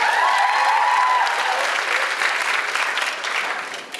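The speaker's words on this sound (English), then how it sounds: "Let's give you a round of applause" Applause from the audience at an Auckland Armageddon Expo 2013 panel fills the hall, a loud, dense round of clapping that holds steady and then begins to fade near the end.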